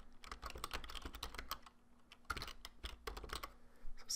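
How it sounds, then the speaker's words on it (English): Quiet, close typing on a computer keyboard in bursts of rapid clicks with short pauses between them, with no voice over it. "we will type the domain name that we just registered"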